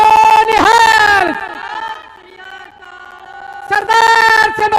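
At a Khalsa Sajna Diwas gathering in Talwandi Sabo, a crowd answers the Sikh jaikara with a loud, drawn-out chorus of voices, then another forceful group shout follows after a brief lull.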